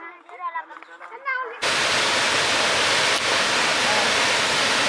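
A waterfall near Bahir Dar, Ethiopia roars as a loud, steady broadband rush that abruptly takes over after brief talk, continuing unbroken and close.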